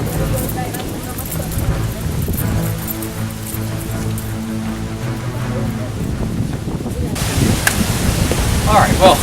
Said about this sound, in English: it's a nice, cool, breezy day